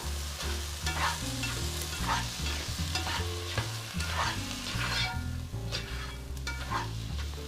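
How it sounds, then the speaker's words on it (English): Tomato and onion sizzle in a frying pan while being stirred, a continuous close hiss overlaid with repeated utensil scrapes and low clunks at an uneven rhythm, no voices. "Mix it all up so the tomato hydrates the onion and it doesn't dry up."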